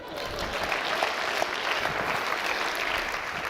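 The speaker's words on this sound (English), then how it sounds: "Let's give her a round of applause." Dense applause from an audience at a Spanish-language talk event, a steady wash of many hands clapping at even loudness throughout, with a faint murmur of voices mixed in.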